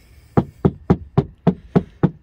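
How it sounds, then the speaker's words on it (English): Seven evenly spaced knocks on a car door panel treated with sound deadener, each a dull, damped thud, close and loud with nothing else heard. "Here it's thud, and then this is the tin can."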